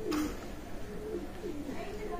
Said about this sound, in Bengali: অসাধারণ কবুতর